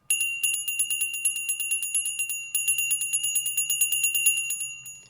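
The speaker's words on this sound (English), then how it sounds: "let's ring the bell. Let's clear the space." A small handheld bell rung rapidly and repeatedly, a bright ringing series of closely spaced strikes with sustained metallic overtones, loud and close, with a brief pause midway before the fast ringing resumes.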